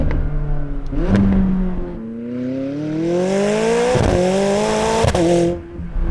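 A 2024 Ford Mustang engine revs up through several gears, its pitch climbing steadily with sharp shift blips, loud and close.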